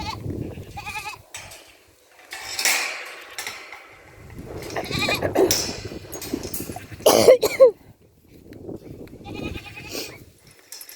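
A young buckling goat, newly separated from its nanny, bleats repeatedly in short, loud, quavering cries with brief pauses between them, close to the microphone and without any talk.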